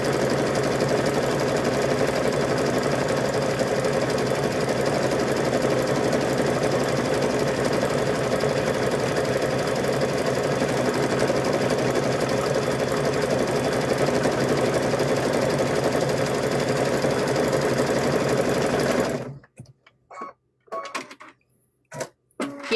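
A sewing machine quilting the final stitches of a wacky patchwork gnome quilt whirs steadily and loudly for nearly twenty seconds, then stops abruptly, leaving a few faint handling clicks.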